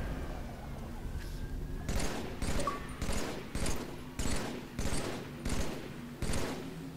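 Rhythmic weapon fire in the Halo 3 Legendary campaign: about eight loud, evenly spaced bursts of shots repeat every half second or so after a quieter opening, with a faint voice in the background.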